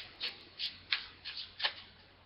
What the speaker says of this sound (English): Okay, shuffling the cards.